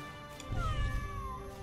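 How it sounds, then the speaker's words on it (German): Cat meow from the Legion TD 2 video game, a single drawn-out, wavering cry rising and falling over a steady game music bed, fairly close and clear. "Könnten noch eine Katze platzieren."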